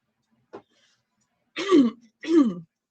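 A short throat sound, then two firm, rasping throat clears in quick succession, close and distinct against silence.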